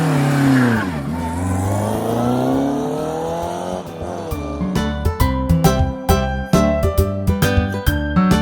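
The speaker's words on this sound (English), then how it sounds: "Race car." A toy race car revs loudly through a rising engine sweep, then breaks into a series of sharp, choppy revving bursts near the listener, with no voices.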